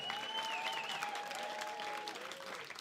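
Audience applause at Hot Water Comedy Club, a dense, continuous clapping from a crowd with a voice calling out over it, steady and fairly even across the short stretch.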